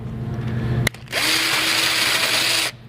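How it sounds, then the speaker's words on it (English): A power drill bores into a broken bolt, first a lower running whir, then a sharp click and a short pause, then a loud, steady high-pitched grinding that stops abruptly. "Well, let's keep drilling."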